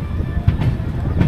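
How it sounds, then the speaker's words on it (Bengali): The Doon Express with LHB coaches rolls into Gosainganj station, a brief close rumble with a few rail-joint clacks over the low steady rumble, a voice faintly under it. "আমাদের ট্রেন এখন এসে পৌঁছালো গোসেনগঞ্জ স্টেশন"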